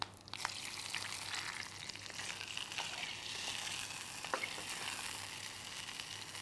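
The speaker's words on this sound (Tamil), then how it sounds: "கருவேப்பிலை பொரிஞ்சதும் இந்த கொடம்புளியை நம்ம கரைச்சி வச்சுருக்கோம், அதை சேர்த்துக்கலாம்." Tamarind water is poured into a pan of fried curry leaves for pineapple rasam, bringing a loud, bubbling sizzle with crackling pops that carries on steadily, close up and with no talk.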